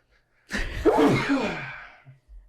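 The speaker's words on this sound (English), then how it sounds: "I'm going to sneeze now." A single loud sneeze close by, starting with a sharp intake and trailing off into a breathy release.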